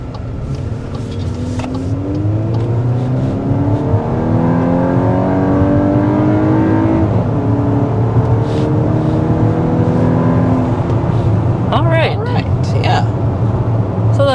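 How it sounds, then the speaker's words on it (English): A 2024 Volkswagen Atlas turbo accelerates hard uphill, its engine note rising through steady, climbing harmonics as it pulls with a brief shift midway. Road noise sits underneath throughout, and no clear speech is heard. "So let's go ahead and start with a hard acceleration."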